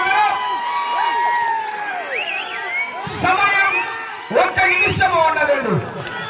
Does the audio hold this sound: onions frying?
no